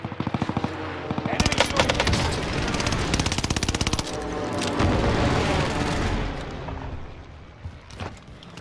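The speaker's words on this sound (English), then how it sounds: "No recoil, definitely can see it, Slack." An MP40 submachine gun in Call of Duty Vanguard Warzone fires long, rapid automatic bursts at close range, mixed with booming in-game effects and a voice speaking over part of it.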